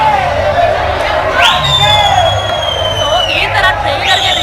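Dense crowd of fans at the Martin film trailer event, a continuous babble of chatter and cheering with whistles rising and falling over it, close and loud throughout.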